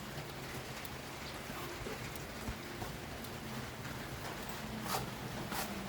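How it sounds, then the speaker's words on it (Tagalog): Rain falls steadily outdoors as a soft, even hiss of drops. It is faint and continuous, with a few slightly louder patters and no voices. "tingnan nyo yun, umuulan na ha"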